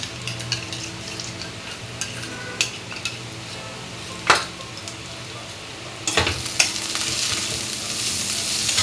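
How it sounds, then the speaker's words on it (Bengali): Ginger and garlic paste fries in a pan for a prawn and taro dish, a steady sizzle broken by sharp clinks and scrapes of a spoon stirring against the metal. "আমার আদা রসুনটা ভাজা হয়ে গেছে"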